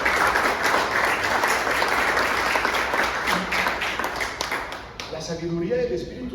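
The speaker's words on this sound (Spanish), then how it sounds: "Dele ese aplauso al Señor si lo cree." Church congregation applauding in praise, a dense steady wash of clapping that fills most of the stretch, then thins near the end as other sounds come in.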